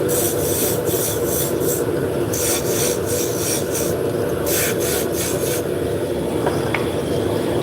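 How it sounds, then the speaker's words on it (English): A wooden spindle turns on a lathe, the tool rasping and scraping steadily against the wood with repeated bursts of brighter hiss, close and loud without pause. "this type of turning on the lathe, it's spindle work, and I'm making spindles"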